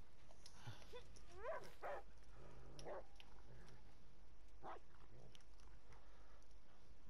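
A dog in the video game Die Young gives a few short yips and whimpering cries, mostly in the first few seconds, over a steady low game ambience.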